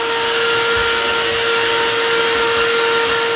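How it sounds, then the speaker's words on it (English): A Black & Decker cordless vacuum sucks up beard trimmings with a loud, steady motor whine that holds one constant pitch throughout, close by and with no talking. "Now let's use our Black & Decker cordless vacuum and get up all that mess."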